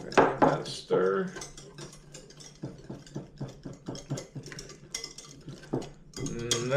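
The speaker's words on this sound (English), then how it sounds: "And we're going to give that a stir." A spoon stirs a creamy dill sauce for salmon patties in a bowl, giving repeated scraping, clinking strokes in an uneven rhythm, fairly close and alone.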